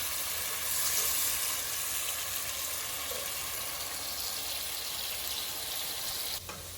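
Tomatoes cooked with red chili powder sizzle gently under a lid on medium heat for a Punjabi matar paneer masala. The soft, continuous frying hiss holds steady throughout and stays fairly quiet, with no voices.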